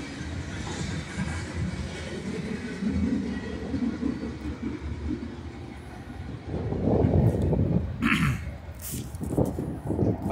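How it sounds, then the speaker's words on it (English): A freight train carrying military equipment rolls past in Brighton, Colorado, a continuous rumble with wheel clatter that swells toward the end, and a person coughs and clears their throat nearby. "That is the third military equipment train through Brighton,"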